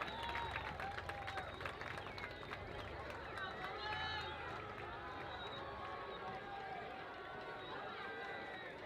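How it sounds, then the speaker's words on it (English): Crowd applause and cheering from the stands at a high school football game between Classical Academy and La Jolla Country Day, a steady, dense wash of clapping and voices that holds throughout. "Give a big round of applause for Owen Stewart as he makes his way off the field."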